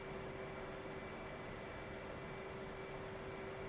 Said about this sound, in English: So we're taxiing forward to the runway straight ahead